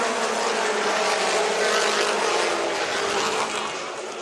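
Mini stock race cars roar around the Tri-City Raceway oval during a fall classic race, a loud continuous engine drone with no talk, fading slightly at the end.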